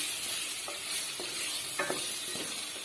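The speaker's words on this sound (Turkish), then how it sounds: "Şimdi beraber kavuracağım." Ingredients for Nigar soup sizzle softly as they are sautéed in a pot with a few scraping stirs, close up and without talk.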